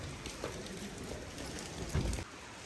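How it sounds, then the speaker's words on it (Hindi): Light rain falls at night on the road out of Manali, a steady soft patter with a brief heavier burst of drops near the end, no voices. "थोड़ी रात हो गई है और थोड़ा बारिश भी होने लगी है हल्की हल्की"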